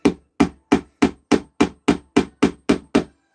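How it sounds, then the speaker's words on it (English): Eleven evenly spaced hammer strikes ring out in a workshop, each a sharp, close, loud blow with a short decay, falling in a steady rhythm about three per second with no talk. "I'm using a hammer next to my fingers."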